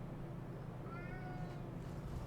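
A cat meows to be fed in the background, a single drawn-out, faint cry in a quiet indoor room.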